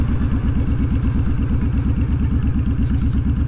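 A loud motorcycle engine thrums in a steady, rapid pulsing beat while riding, close up and continuous, with no voices over it.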